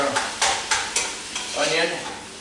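Peppers and onion sautéing in a pan, a soft sizzle broken by several scraping stirs of a utensil, close and fairly loud.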